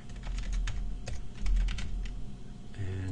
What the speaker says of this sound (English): did I type all that in correctly?